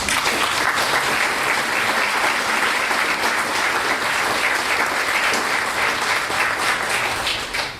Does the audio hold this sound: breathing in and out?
no